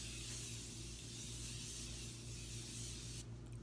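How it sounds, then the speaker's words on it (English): Morphe Prep and Set setting spray mists onto a face in one continuous soft, close hiss lasting a few seconds before stopping abruptly. "we're using the Morphe Prep and Set setting spray"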